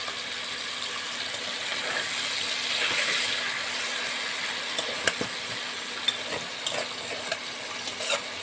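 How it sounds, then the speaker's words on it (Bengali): Small kachki fish fry in a pan with salt and turmeric, giving a steady hissing sizzle. A few light clinks punctuate it toward the end. "কাচকি মাছটাকে ভেজে নিচ্ছি নুন হলুদ দিয়ে"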